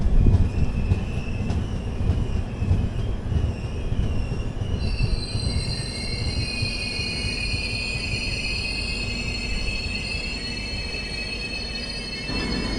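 The Arsikere–Hubballi Express rolls in on the opposite line at a station: a loud, steady rumble of wheels and carriages, joined midway by shrill, sustained wheel squeals that carry to the end.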